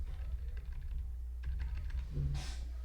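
Soft, quick typing on a Mac computer keyboard, short bursts of key clicks with brief pauses, fairly quiet over a low background hum.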